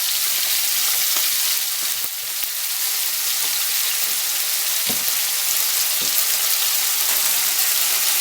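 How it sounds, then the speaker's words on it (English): Onions sear in a pot with squirrel meat, giving a dense, steady sizzle up close, broken now and then by faint pops and light knocks. "So I'm going to put the onions in there. Let them sear up a little bit too."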